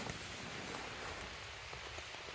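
Steady rain falls during a small thunderstorm at the Col de Gamel, a mountain pass in the Ariège Pyrenees, pattering continuously and evenly on surfaces near a tent with no voices.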